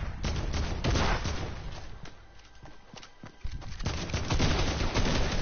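Video game gunfire, with rapid bursts of shots and clattering impacts, a brief lull in the middle, then heavier firing resuming close and loud.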